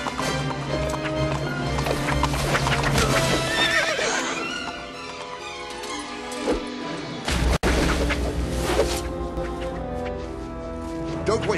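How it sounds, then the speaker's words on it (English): Horses whinny loudly over the clatter of galloping hooves amid a chaotic, busy scene, with voices shouting through it. "And don't hit my horse!"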